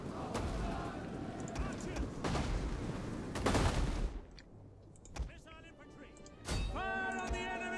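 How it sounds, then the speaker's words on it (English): Archers fire volleys in a Total War: Rome II battle, heard as repeated sharp bursts and rushing releases over a busy battle din, with a quieter lull and then ringing tonal sounds near the end. "we have our archers firing"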